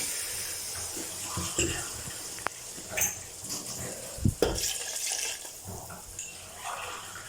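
Water splashes and gurgles into a pot of chicken and pea pulao in uneven bursts, with a few clinks and knocks of utensils, nearby and moderately loud.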